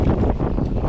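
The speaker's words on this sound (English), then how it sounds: "this wind just all of a sudden went berserk" Strong wind gusts on open water during winter bass fishing, a steady broadband roar buffeting the microphone for under a second, with no speech.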